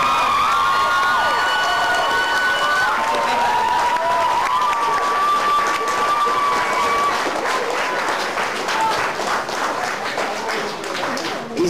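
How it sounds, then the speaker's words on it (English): Audience at a 2004 anime convention cosplay contest applauding steadily, a dense sustained wash of clapping with some cheering, loud and continuous throughout. "Keep clapping."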